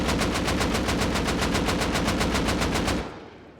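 Rapid, evenly spaced explosive rounds fire in the video game Rust, a loud automatic burst of about twenty shots in steady rhythm that stops abruptly and leaves a brief fading tail.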